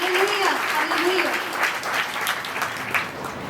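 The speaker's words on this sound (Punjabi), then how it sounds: "ਆਓ ਪ੍ਰਭੂ ਨੂੰ ਮਹਿਮਾ ਦੇਈਏ ਜ਼ੋਰਦਾਰ ਤਾੜੀ ਦੇ ਨਾਲ।" A church congregation applauding in praise of the Lord: clapping spreads across the room while a voice carries over it at first, then the clapping continues more loosely.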